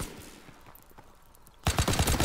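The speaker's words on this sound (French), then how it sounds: "un petit kill au fusil de précision quand même" Sniper rifle gunfire in the video game Call of Duty WWII, faint scattered distant shots followed by a sudden loud burst of rapid gunfire in the final second.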